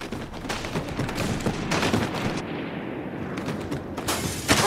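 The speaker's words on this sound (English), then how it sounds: "MG's opened up on us!" Machine gun fire in the video game Company of Heroes 3, with dense, continuous bursts of gunfire and distant booms blending into a sustained battlefield roar.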